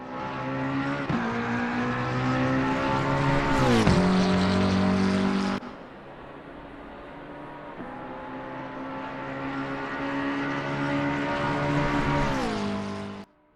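A McLaren race car heard from outside in Assetto Corsa Competizione, loud engine tones rising through gears with shift drops, briefly quieter mid-way before building again and cutting off abruptly.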